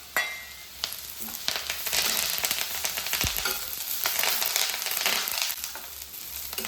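Onion and curry leaves fry in a hot pan, giving a steady, close, broadband sizzle with crackles and brief stirring scrapes throughout; no voices.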